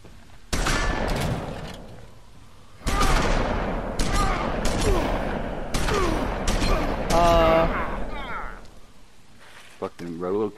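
Rapid gunfire bursts from The Wolf Among Us video game crack out in several loud clusters across the scene, mixed with game voices and dialogue.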